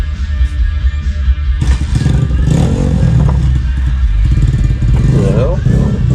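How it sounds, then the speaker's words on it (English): Dirt bikes riding around a yard, their engines revving and accelerating loudly and continuously up close, with a person talking over the motor noise. "got dirt bike riders in the yard"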